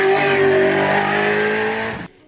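A 700 hp modified Chevy C5 Corvette Z06 passes close by at full throttle, its loud engine roar holding steady for about two seconds before cutting off abruptly and falling silent, followed by a faint pop.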